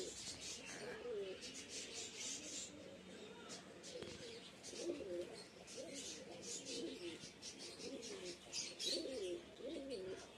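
Fancy pigeons sit sunning themselves and coo softly in repeated low rolling phrases, with faint chirps and a voice in the background.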